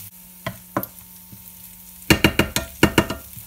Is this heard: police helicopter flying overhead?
no